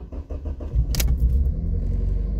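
A parked car with 112,000 km on the odometer and a nearly straight exhaust starts on the first try: a brief starter crank, a sharp catch, then a steady low idle rumble close by.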